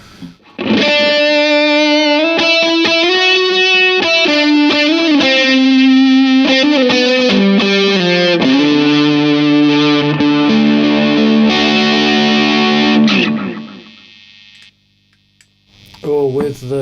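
An electric guitar plays chords and single notes through thick, fuzzy distortion with a swirling, echoing modulation, ringing out to silence before a brief new strum.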